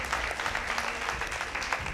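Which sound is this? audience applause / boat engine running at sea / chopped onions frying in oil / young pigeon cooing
audience applause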